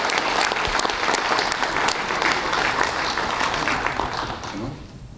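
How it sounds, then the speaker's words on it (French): Dense, loud applause from an audience at the presentation of the Tour 79 cycling race, clapping steadily and then tapering off at the end. "On les applaudit, on les applaudit."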